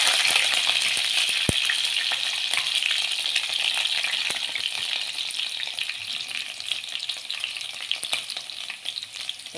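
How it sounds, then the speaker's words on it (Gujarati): Green chilies hitting hot oil with browned garlic for a Kathiyawadi-style spinach dish, a loud, dense, continuous sizzle close by, with occasional crackles and one sharp clink near the start. "હવે લસણ બ્રાઉન થવા આવ્યું છે, આપણે એની અંદર નાખી દઈશું લીલા મરચાં."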